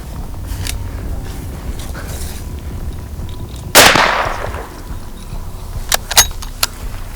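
A single loud, close rifle shot fired while hunting dangerous game cracks out once and rolls away in a long echoing decay over quiet outdoor ambience, followed by a few faint clicks.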